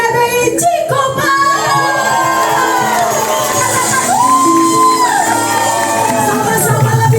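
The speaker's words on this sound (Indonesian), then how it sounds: "Kasih tepuk tangan buat tim GBI Cikupa." A church congregation at a Christmas service cheers and shouts loudly as a crowd, with whoops and raised voices over sustained noise throughout.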